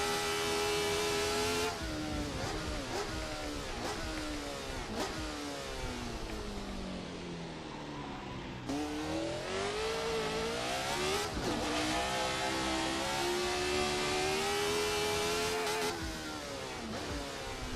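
A 1970s Formula One car in the Assetto Corsa racing game screams through repeated high revs and gear changes around the Montjuïc Park street circuit, loud and continuous, with a brief lift partway through.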